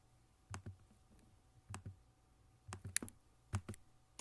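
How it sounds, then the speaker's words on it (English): Sharp computer mouse clicks in small clusters, about a dozen close, light taps spread unevenly with short pauses between bursts, heard alone at low level. "I'm clicking."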